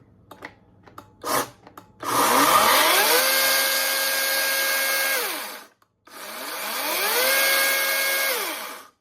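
A GreenWorks Pro 80V cordless chainsaw, new and run without bar oil, whirs up loud and close in two steady bursts of several seconds, each ending in a quick spin-down, after a few light handling clicks.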